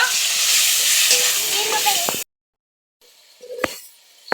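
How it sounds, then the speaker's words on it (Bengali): Onions, green chilies and tomato fry in a pan with salt and turmeric powder, giving a loud, continuous sizzle that cuts off abruptly, then a quieter stretch with a sharp clink of utensil on pan. "এখন ভালো করে এটা ভেজে নেব।"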